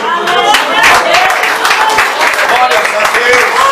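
Congregation clapping during a night worship service, dense and continuous hand claps filling the room, mixed with crowd voices and speech throughout.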